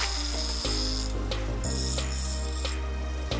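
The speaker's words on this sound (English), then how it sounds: "On the grinding machine, I will sand the place of the cut." A grinding machine sands down the cut edge of a metal sheet, giving a steady, loud mechanical whir with rattling, ratchet-like ticks and a few sharp knocks as the work is pressed against it.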